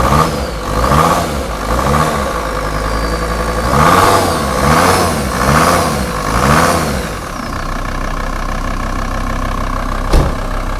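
A VW T4 bus with a 2.5 TDI diesel engine is revved by throttle, loud and close: a steady idle rises and falls in four repeated revving swells before settling back to a rough idle.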